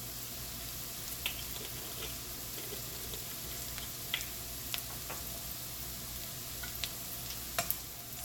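Shrimp scampi with a little hot pepper sautés in a pan, a steady low sizzle running throughout, broken by light scrapes and taps of stirring, close and quiet.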